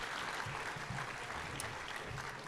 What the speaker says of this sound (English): Would you all give it one more time, an applause for Emma and Project Look Around